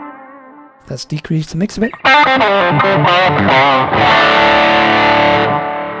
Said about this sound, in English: switch on the tube screamer